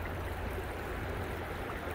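The Yakima River flows past the bank at a park boat launch, a steady, broad rushing wash of moving water that holds constant and close throughout, with no voices.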